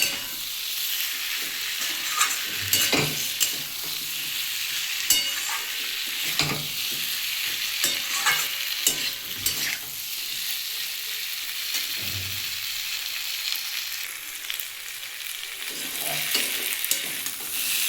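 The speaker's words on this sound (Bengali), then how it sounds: "এবার আমি সেদ্ধ করা ওলটা দিয়ে দেব এটা দিয়েও আমি কিছুক্ষণ কষিয়ে নেবো" Boiled elephant foot yam fries in hot oil, a loud steady sizzle with repeated scraping and clattering of a stirring utensil in the pan throughout.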